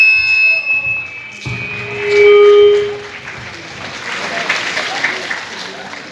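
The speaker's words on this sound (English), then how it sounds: "for a big round of applause" Audience applause at a university ceremony honouring over 400 meritorious students in Belonia, a burst of clapping from a crowd beginning after some tones and a sustained hum, continuing steadily at moderate loudness to the end, with voices mixed in.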